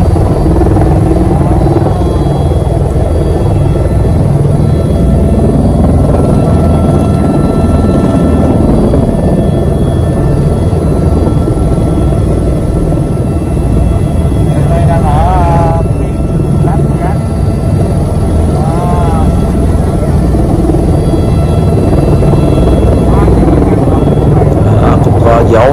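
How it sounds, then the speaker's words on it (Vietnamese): A helicopter slowly lifting off for a night sightseeing flight over Las Vegas: a loud, continuous rotor and engine roar that persists throughout, with someone talking over it for much of the time. "Và bây giờ chiếc máy bay chúng ta cũng từ từ cất cánh."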